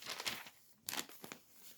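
A plastic shopping bag crinkles and rustles in bursts up close, quiet handling noises with crackly bursts separated by brief pauses.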